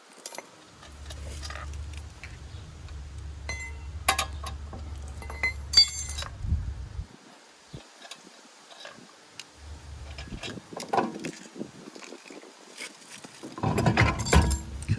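Taking the wheel off a 2016 Honda Civic EX brings scattered metallic clinks and ticks of tools and lug hardware. Two stretches of low mechanical whirring come between them, and a cluster of clatter follows at the end.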